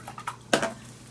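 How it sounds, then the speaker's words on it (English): A paintbrush is rinsed in a water jar: a few light taps and knocks, then a single short splashy swish of the brush against the glass, close and brief. "And then rinse my brush"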